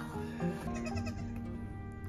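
A goat bleats on an Alaskan homestead, a faint wavering call heard at moderate distance over soft outdoor background noise.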